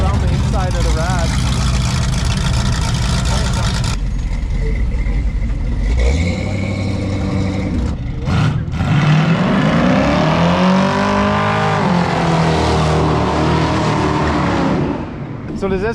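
A car engine and exhaust run loudly and steadily nearby in a busy restoration shop, rising and falling in pitch as it revs, with people talking over it.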